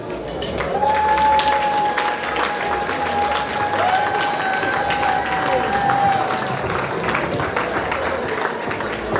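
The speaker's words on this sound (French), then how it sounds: "ils méritent un grand applaudissement, effectivement" An audience at an association's evening gathering in a hall gives sustained, even applause with a crowd murmur, while a thin steady whistling tone runs through the middle of it.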